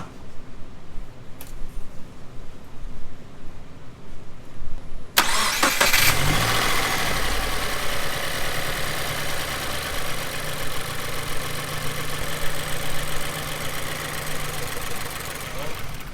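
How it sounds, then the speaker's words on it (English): A Subaru WRX engine with a Cobb flex-fuel E85 setup cranks briefly, then catches and settles into a steady rumbling idle that continues loudly to the end. "you're gonna crank it over and just let it die."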